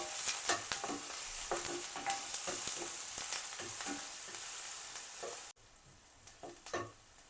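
Vegetable roll filling sautéing in a pan, a close sizzle and fry with repeated scraping stirs, dropping suddenly to a quieter sizzle before a few more stirs.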